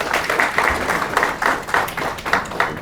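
Applause from a seated audience at a government forensic laboratory reopening event, a steady wash of clapping with regular pulses running through the whole stretch, moderately loud and without speech over it.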